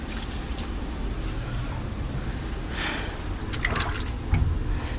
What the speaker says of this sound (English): Turn this water off and clear the drain again.